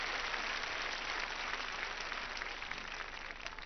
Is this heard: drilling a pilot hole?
no